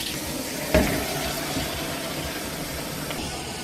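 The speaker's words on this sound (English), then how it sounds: "I'm just going to fill a bowl with some of the Mrs. Meyer's soap and hot water." Hot water with dish soap runs from a kitchen tap into a bowl, a steady close rushing flow after a brief splash at the start, with no one speaking.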